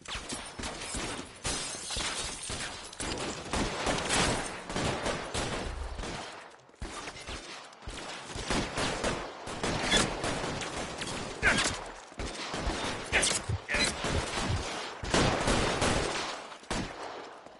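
Gunfire from a police shootout in the L.A. Noire video game, with dense, rapid bursts of shots and cracks that go on almost without a break, loud and close, with short lulls.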